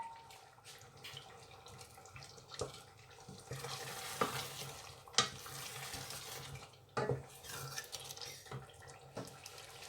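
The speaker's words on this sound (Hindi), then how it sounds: "अब इनको मैं 2 मिनट भूनूंगी।" Masala and potatoes sizzle softly in a pan for an Indian potato egg curry, with intermittent scraping and clinking of a spoon stirring, quiet and close with no talking.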